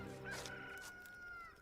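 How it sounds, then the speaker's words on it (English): A single rooster crows once, a drawn-out, faint call that fades out, quiet and distant-sounding with no talking over it. "and a rooster crowed."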